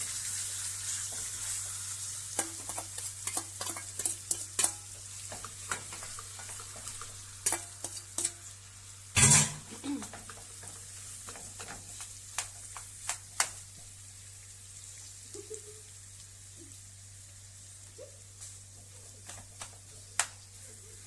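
Potatoes being stirred and frying in a pan on the stove, a steady close sizzle with scraping and clattering stirs throughout, one louder clank midway.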